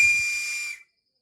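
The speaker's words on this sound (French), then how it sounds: "je dois siffler" A single shrill, steady whistle blast rings out for under a second, then cuts off into silence.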